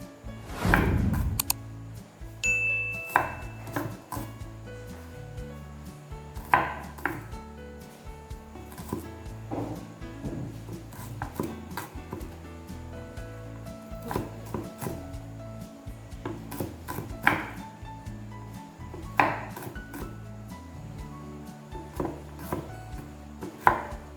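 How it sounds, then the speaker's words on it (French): Onions chopped with a knife on a board for a Sri Lankan coconut-milk curry, irregular close taps and thuds in uneven bursts, moderately loud with brief pauses between runs. "Premièrement, il faut couper les oignons."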